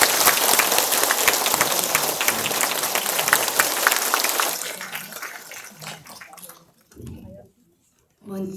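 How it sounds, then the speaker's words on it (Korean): Loud, sustained applause from an audience at a school book-launch ceremony gradually thins out and fades, leaving a few scattered claps and faint voices at the end. "나오실 때 큰 박수 부탁드리겠습니다."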